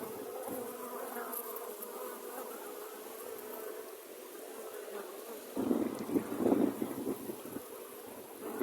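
Honeybees flying around an open hive during an autumn colony inspection, a soft continuous buzzing close by, with a louder rustling burst of handling noise near the end.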